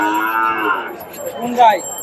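A dairy cow moos loudly and close at an open cattle market in the rain, one long drawn-out call that rises again near its end, with no talk.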